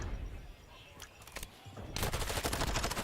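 Video game gunfire in a Call of Duty League match: scattered sharp shots, then a dense burst of rapid automatic fire near the end, with a commentator's voice in the background.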